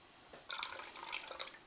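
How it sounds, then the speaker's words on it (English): Water and rice vinegar being poured for a sushi rice dressing make a short, bright trickling splash that starts abruptly after a moment of quiet and runs steadily to the end, close and fairly soft. "this is water, and I put some rice vinegar here"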